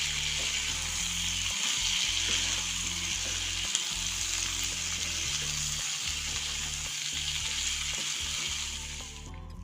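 Potato and capsicum sabzi frying in a pan while it is stirred, a continuous close sizzle with soft scraping and knocking of the spoon underneath.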